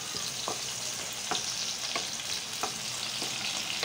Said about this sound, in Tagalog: The next is our red onions. Sautein lang po natin yan slowly